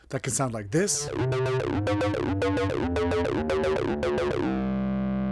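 An acid techno synthesizer line plays a rapid, rhythmic sequence of squelchy staccato notes that ends on a sustained tone, after a short spoken introduction.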